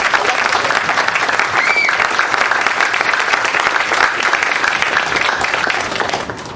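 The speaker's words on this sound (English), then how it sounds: "I think deserves a pretty good round of applause" Sustained audience applause at an affordable housing announcement, a dense, even roar of clapping lasting several seconds before starting to taper.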